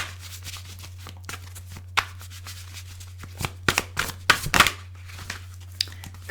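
Tarot cards shuffled and handled by hand in a quiet room: a run of soft riffling and flicking bursts, sparse at first, then several quick, louder snaps clustered together, over a steady low hum.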